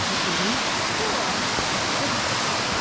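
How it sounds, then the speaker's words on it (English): Waterfall at Crabtree Falls along a hiking trail, a steady broadband rush of falling water that fills the whole clip at close range, with no break in the roar. "We just got to the first waterfall."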